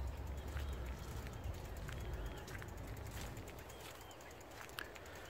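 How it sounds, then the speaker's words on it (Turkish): Birds sing inside a forest near houses, with scattered faint chirps and short whistles over a steady low rumble of background noise. "Kuş seslerini duyuyorsunuz."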